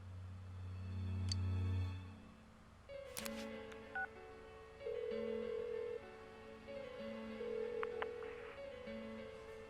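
Telephone dialing tones in the Persona 4 Golden video game, a series of distinct beeping keypad tones of varied pitch pressed one after another, followed by a low hum and faint clicks.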